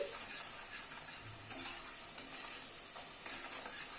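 Spice paste with turmeric, chili powder and salt sautéing for a rui fish curry, a steady soft sizzle with faint stirring scrapes underneath, no voices.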